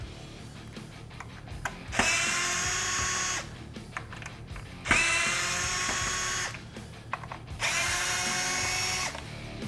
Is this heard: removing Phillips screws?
yes